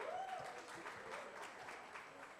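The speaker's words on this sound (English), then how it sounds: "A round of applause for SCC Time" Faint, distant audience applause at a judiciary debate event, a steady patter of clapping over about two seconds with a voice briefly heard at the start.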